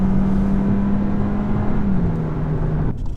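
A 2018 VW Golf engine under gentle throttle while driving gives a steady, close drone with a constant low tone that sags slightly in pitch before cutting off near the end.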